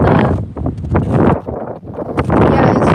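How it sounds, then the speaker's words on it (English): Strong wind buffets the microphone in loud, roaring gusts that rise and dip over a few seconds. "it's super windy"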